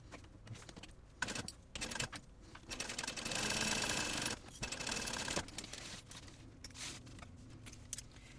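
A sewing machine bastes a seam with a 1/8 inch allowance on a fabric travel accessories bag, running in a steady burst for about three seconds mid-clip amid scattered handling clicks and fabric rustle, fairly close.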